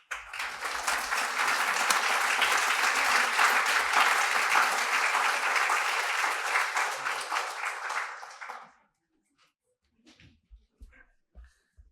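Audience applause at a legal services forum in Minneapolis, a full, steady roar of clapping for about eight seconds that stops abruptly, followed by faint scattered noises in a quiet room.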